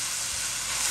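Diced carrot, onion and mushroom sizzle in a hot wok during high-heat stir-frying, a steady bright hiss that stays loud and even across the moment.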